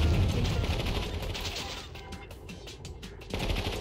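Machine guns fire on scavengers in Warzone 2100, rapid staccato bursts rattling at moderate distance, thinning into separate pops midway before a heavier burst returns.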